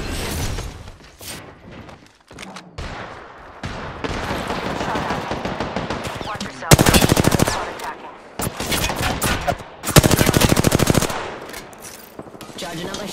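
Rapid bursts of R-301 assault rifle fire in Apex Legends, loud and close, with long sustained strings of shots broken by short pauses amid other game effects.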